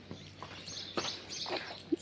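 A few short, bright house sparrow chirps, scattered and fairly close, over a quiet background.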